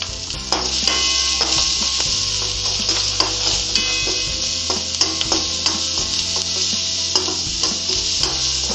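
Onions sauté in coconut oil alongside mani kudal in a pan, a continuous loud sizzle with frequent scraping stirs of a spatula against the pan, steady and close with no talking.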